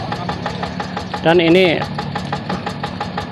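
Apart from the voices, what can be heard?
Yanmar TF85 tractor engine running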